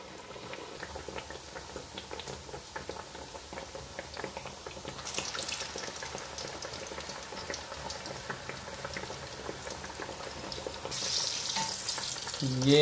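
Minced meat kebabs frying in a pan, a continuous soft sizzle and bubbling that grows louder toward the end, with no talking.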